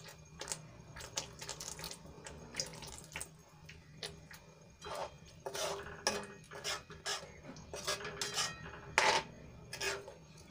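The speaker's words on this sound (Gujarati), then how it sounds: "ગ્રેવી સરસ રીતે સંકળાઈ ગઈ છે તો એમાં આપણે હવે થોડુંક પાણી ઉમેરીશું" About half a cup of water is added to simmering capsicum gravy in a pan, with soft splashing and pouring mixed with scattered utensil clinks and clatter, close and fairly quiet, with no talk.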